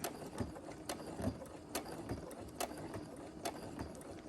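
A sewing machine back stitching a fabric mask: quiet, regular mechanical clicking and whirring with a steady ticking rhythm, heard alone.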